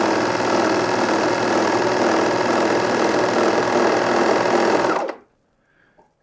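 A Juki MO-2000QVP serger sews a seam at a steady fast pace, giving a loud, even mechanical whir for about five seconds before it abruptly stops, leaving near silence.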